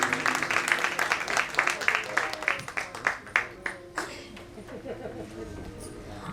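An audience at a live music show claps for the sound engineer and photographer, a fairly quiet, uneven patter that thins out toward the end.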